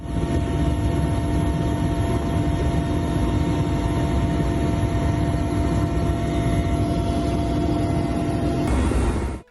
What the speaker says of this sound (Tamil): மாநில முதல்வர் சுக்வீந்தர் சிங்குடன் இணைந்து ஹெலிகாப்டர் மூலம் பிரதமர் மோடி பார்வையிட்டார்.